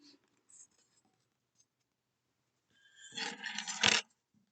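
Paper being folded and pressed into an envelope flap, a burst of crinkling and rubbing near the end after mostly quiet handling, close up with no voices.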